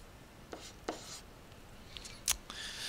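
A chemical formula being written by hand: faint, close scratchy strokes with a few brisk scrapes and taps in a quiet room, and no speech.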